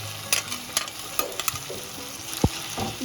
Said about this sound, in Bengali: দিয়ে আবার একটু ভালোভাবে কষিয়ে নেব